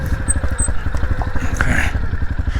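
A Tenaci Wong trials motorcycle descends a steep snowy mountain slope near Kangding, Sichuan, its engine putting out a close, low, rapid burbling thrum with a few faint clanks, and no talk.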